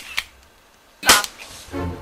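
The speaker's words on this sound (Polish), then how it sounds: "można oddawać strzały" Sharp gunshots at a shooting stage of the Rajd Granica rally: one faint crack, then a loud burst near one second, followed by a lower rumble and noise.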